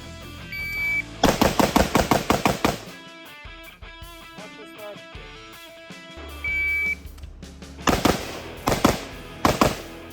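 Loud pistol shots crack out in two rapid bursts, ten shots in under 2.5 seconds during a special-forces shooting test, separated by a quieter stretch with a brief beep and some clatter.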